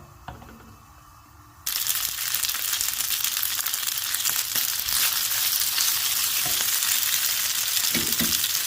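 Boiled pasta tossed into a hot pan with garlic granules bursts into loud, continuous sizzling after a quiet start, and scraping stir strokes run through the frying.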